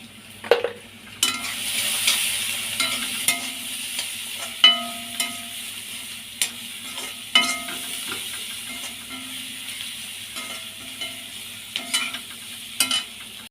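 Masala with turmeric powder and salt is sautéed in oil for a crispy squid fry, a soft sizzle running underneath while a spoon knocks and scrapes the pan at irregular intervals.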